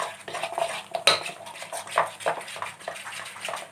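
A spoon stirs fulauri batter with roasted cumin in a bowl, making quick irregular clinks and scrapes against the side and a wet slapping churn, close by and moderately loud. No one speaks.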